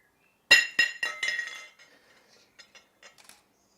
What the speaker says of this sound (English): So I'm going to stand up now and drop this and smash it